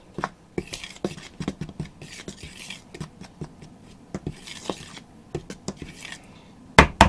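Ingredients being stirred in a pot with a utensil, giving a run of clinking, scraping knocks against the metal at an uneven pace, close and alone, ending in a louder clatter.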